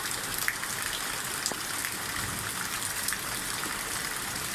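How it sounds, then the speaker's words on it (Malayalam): Heavy rain pours down outdoors in a dense, even wash of hissing drops and splashing on surfaces, continuous throughout with no voices. "നല്ല മഴ പെയ്യുന്നുണ്ട്."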